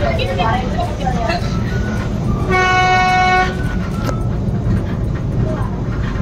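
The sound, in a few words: funicular train running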